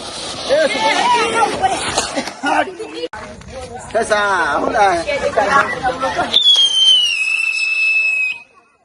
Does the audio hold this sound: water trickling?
no